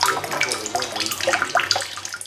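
Running water pours steadily into bottles at a water purification plant, a continuous close splashing and gushing rush with no talking.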